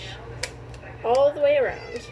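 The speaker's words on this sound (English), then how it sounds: "That's my cat, for those of you who do not know." A pet cat meows twice in quick succession in a home kitchen during pasta sauce cooking, close and clear, with a person talking briefly just before.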